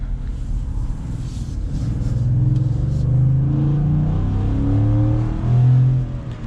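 A 2022 Ford F-150 V8 truck accelerating, a deep rumbling engine note climbing steadily through the gears, heard from inside the cab, with a brief surge near the end.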